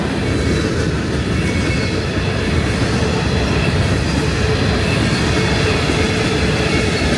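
A long CSX freight train rolls past close by, a loud, steady roar of wheels on rail with a rhythmic clatter throughout and no letup.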